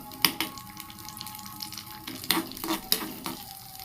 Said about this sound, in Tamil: இப்போ இதை நல்லா இப்படி ஃப்ரை பண்ணி எடுத்துக்கோங்க நல்லா கிறிஸ்பியாக வரணும்